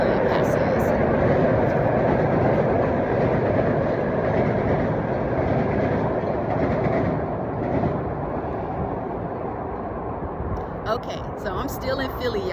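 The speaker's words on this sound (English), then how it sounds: "okay, so that's a train, so I'm going to stop talking until it passes" A train passes outside in Philadelphia, a loud steady rumble and rolling rail noise filling the whole stretch, fading slightly toward the end with some clatter, no talking over it.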